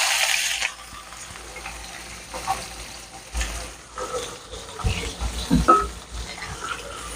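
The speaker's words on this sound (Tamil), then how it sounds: "இந்த வெங்காயம் இஞ்சியை நல்லா கொஞ்சம் வேகட்டும்" Onion and ginger fry with cashews in a pan as aval upma is cooked, a soft sizzle with stirring and clinks that grows busier toward the end, with someone talking quietly throughout.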